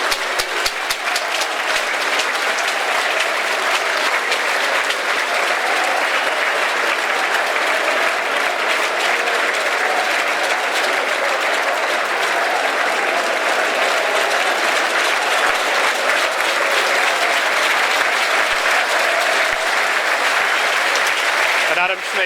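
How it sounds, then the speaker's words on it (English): A football crowd in the East End stand at an FC Halifax Town versus Cambridge United match gives a substituted player a standing ovation, with loud, dense, sustained clapping that lasts throughout while a commentator talks over it. "receives a standing ovation from the East End"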